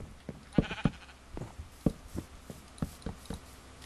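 Minecraft sheep give short, wavering bleats several times, fairly close, each separate call standing out over a quiet background.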